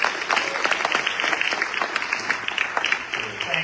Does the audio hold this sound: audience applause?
yes